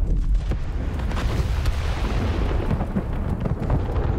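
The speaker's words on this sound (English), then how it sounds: "This game has a lot of explosions." A big explosion in the video game It Takes Two bursts into a loud, sustained booming rumble with crackling debris that holds steady for several seconds.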